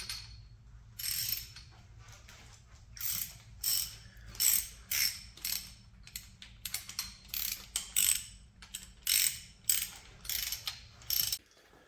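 A ratchet wrench clicks in repeated quick bursts while bolts are tightened on the rocker heads of a 318 engine, with short pauses between strokes and a low hum underneath.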